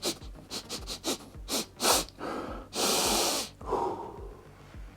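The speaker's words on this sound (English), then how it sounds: "I guess we need to take a quick little sniff here, just to check." Several quick, close sniffs and breathy inhales over newly unboxed Warhammer 40K Kill Team: Nightmare miniatures, in short bursts followed by a longer exhale, with no talking.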